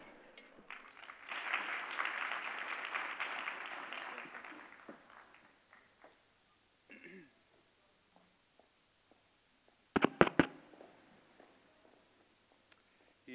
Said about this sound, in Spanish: Damos la bienvenida con este aplauso a nuestro invitado, al señor George Cajati.